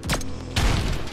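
Bombs exploding in the video game Tower Unite: two loud, broadband blasts about half a second apart, the second heavier and rumbling on briefly afterwards.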